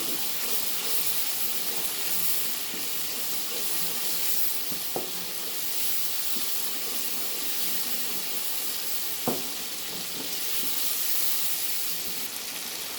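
Spices with coriander powder frying in a pan for a mash dal, a steady hissing sizzle throughout with a couple of faint clinks of a spoon, no one talking.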